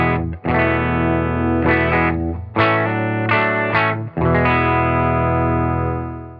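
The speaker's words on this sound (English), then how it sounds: "Silk Tone amp sounds like this." A Clydesdale Guitars Warhorse electric guitar with Righteous Sound pickups plays through a Silk Tone amp, sustained chords and notes with a few sharp re-attacks, loud and close with no voices.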